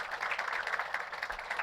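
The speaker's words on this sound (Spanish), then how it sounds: "Dale un aplauso al Señor." Church congregation applauding during a sermon, a steady, dense patter of many hands clapping at once, fairly faint and distant, with no voices standing out.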